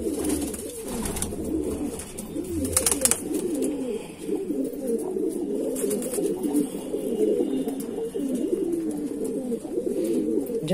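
Domestic pigeons coo in a steady stream of overlapping low, throaty rolling calls, close and continuous, with a flock of fancy breeds including a tailed jira pigeon kept together; a brief flutter and rustle sound near the start.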